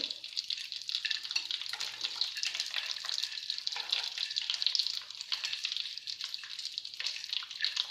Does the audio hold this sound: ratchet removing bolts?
no